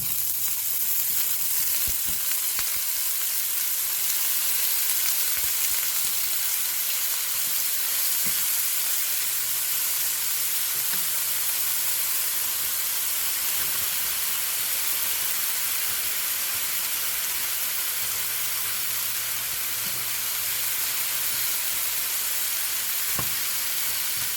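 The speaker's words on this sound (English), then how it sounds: "Alright, so let's go ahead and add our broccoli." Broccoli sizzles and crackles steadily in hot oil in a pan, a loud, continuous frying hiss with no talking.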